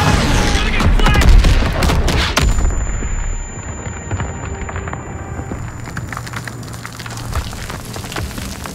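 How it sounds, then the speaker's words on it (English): Bombs exploding on a World War II battlefield in the Call of Duty WW2 game, a loud close blast and roaring debris at first, then rumbling, crackling gunfire and distant booms continuing underneath. "Bombs coming in!"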